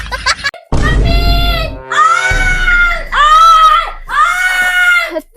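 A woman screams loudly in several long, high, wavering bursts separated by brief pauses, close and piercing, in a Hindi comedy sketch set at a home.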